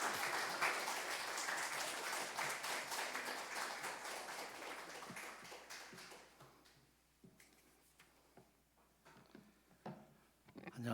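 A church congregation claps to welcome a guest pastor at a Sunday service, the applause loud and thick at first, then thinning into scattered, fading claps with a few late single claps near the end.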